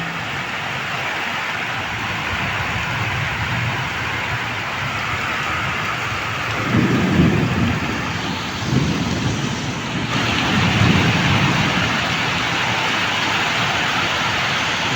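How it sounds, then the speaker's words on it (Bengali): A fierce night thunderstorm with heavy rain and wind at a wedding venue: a constant roar of rain, broken by several low rumbles of thunder rolling through the middle stretch. "বিদ্যুতের চমকানি কিন্তু খুবই ভয়ানক এবং জোরে জোরে আকাশ বজ্রপাত হচ্ছে"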